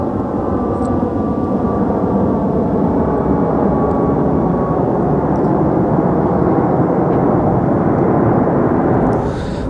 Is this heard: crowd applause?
no